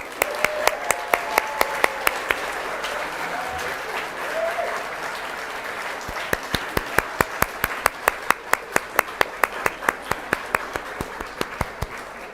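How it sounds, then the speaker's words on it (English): Applause from a crowd at an occupational therapy pinning ceremony fills the room, swelling into steady clapping, then thinning to sharper, distinct claps that continue at a fairly even pace. "give you another round of applause for all your hard work"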